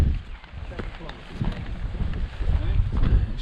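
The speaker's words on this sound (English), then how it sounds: "You can see the wind's picked up" Wind gusting outdoors along the Great Glen Way walking route, a low rumbling buffet that swells and eases against the microphone, loud and close, with bursts of noise throughout.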